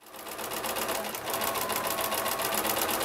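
A sewing machine gathering fabric into ruffles runs in a steady, continuous whirring stitch rhythm, close and fairly loud, without speech throughout.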